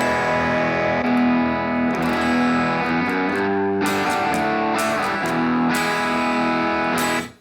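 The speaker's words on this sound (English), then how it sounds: "So reverb is okay." Distorted electric guitar chords through a Blackstar IDX Floor reverb ring out with a wash of reverb, each strum sustaining and trailing off into a roomy echo, loud and continuous.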